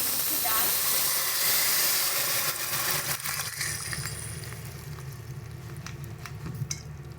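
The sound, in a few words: moong dal with bottle gourd boiling in a pot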